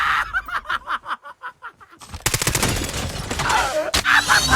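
Rapid bursts of video game gunfire, first in a staccato string of shots, then a dense, louder barrage with a short pause.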